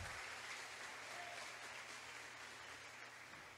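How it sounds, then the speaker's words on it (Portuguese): Church congregation applauding, a faint, even patter of many hands that holds steady at a distance for a few seconds. "Aplauda ao Senhor."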